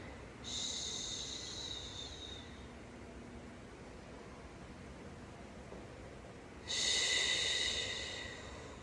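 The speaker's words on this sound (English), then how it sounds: "Inhale and exhale, subtle sound." Slow, deliberate breathing up close, with a long airy inhale followed by a steady exhale and then another hissing breath later, over a soft background hum.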